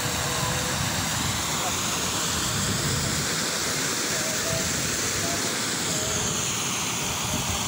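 Gushing water from a melting Himalayan glacier at Hemkund Sahib, a continuous loud rushing roar like a torrent, unbroken and steady throughout.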